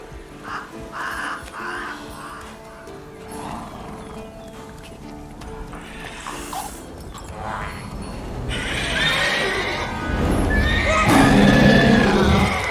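Geralt's horse Roach in The Witcher 3 whinnies and neighs several times over clip-clopping hooves, the calls growing louder toward the end, with a faint voice and game sounds in the background.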